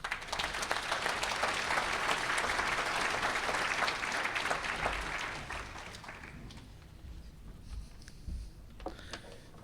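Audience applause welcoming Justin Mohamed to the stage at a health leadership forum, loud sustained clapping from a full room for about six seconds, then fading to scattered claps.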